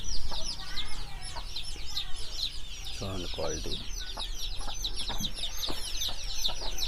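Breeder hens cluck and chatter close by in a poultry pen, with bird calls throughout and a few louder squawks, while someone speaks briefly over the flock.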